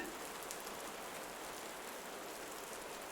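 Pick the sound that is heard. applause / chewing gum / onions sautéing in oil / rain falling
rain falling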